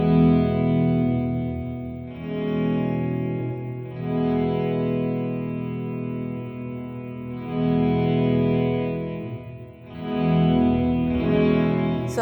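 Sustained guitar chords through an Alexander Space Force reverb pedal bloom in washes of reverb that rise and fade in several swells as the reverb size changes, loud and near, without speech.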